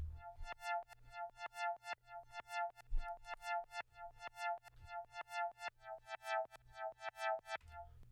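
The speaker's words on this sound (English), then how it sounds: "Just a little synth I made." A custom-built synth patch running in Kontakt player plays a steady run of short, bright plucked notes in a quick even rhythm over a low sustained drone, close and alone with no voices.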